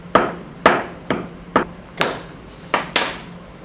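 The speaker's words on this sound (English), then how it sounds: "Put that in a mortar and use a pestle." Camphor is crushed with a mortar and pestle in a lab, seven sharp, close pounding strikes landing about every half second with faint ringing after some hits.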